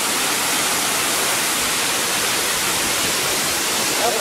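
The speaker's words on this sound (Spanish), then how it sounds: "Les dejamos esta maravillosa vista, esta cascada." Velo de Novia waterfall in Chiapas, Mexico, roars as a steady, dense broadband rush of falling water, loud and unbroken throughout with no voices.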